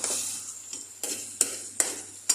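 Tomato paste is stirred in a pan for chicken butter, giving a steady soft sizzle broken by sharp spoon scrapes roughly every half second, close up and with no talk.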